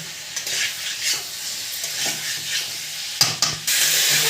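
A spice masala is stir-fried in a pan with fried potato, papaya and boiled egg, giving a near, steady sizzle with rhythmic scraping strokes and a couple of sharp spoon knocks toward the end.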